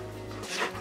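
A dog being dog-sat indoors gives a short, soft whimpering whine, brief and fairly quiet against a faint background hum.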